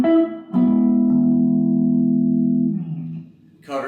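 A sustained electric guitar chord rings out through a reverb pedal on a 60s reverb setting with a wash of reverb, decaying slowly, followed by a brief pick scrape at the end.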